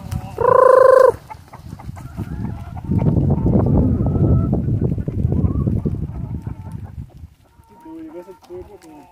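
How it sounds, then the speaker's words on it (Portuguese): Chickens cluck noisily as the flock rushes in for green leaves thrown to them in dry conditions, a loud burst of calling at the start followed by a steady jumble of clucks and rustling. "Segura aqui, Pedro, pra você filmar aí a invasão das galinhas."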